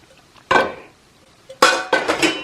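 An old family stainless steel pan is handled with loud metallic clanks: one clattering knock, a pause, then two more close, bright clatters in quick succession.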